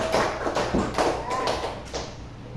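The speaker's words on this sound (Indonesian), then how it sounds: "Tepuk tangan buat Rashid" A class of children applauds a classmate, a burst of scattered claps and taps mixed with classroom chatter, fairly close and moderately loud throughout.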